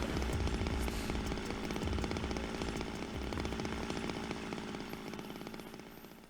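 A chainsaw in the video game Zero Time Dilemma roars loudly and continuously, its harsh buzzing engine note steady, then easing slightly toward the end, with no talking over it.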